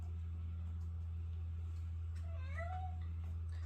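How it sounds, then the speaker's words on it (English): A house cat meows once near a kitchen where a cookie house is being assembled, a short rising-and-falling cry heard alone over a steady low electrical hum. "I have a kitty that wants to join me."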